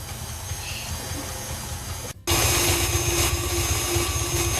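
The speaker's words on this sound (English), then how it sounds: "I turned down the mixer a little bit so you guys could see" Electric mixer whirs as it churns cream into homemade butter, a steady close hum that cuts out briefly and returns louder and harsher.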